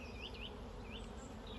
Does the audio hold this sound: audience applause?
no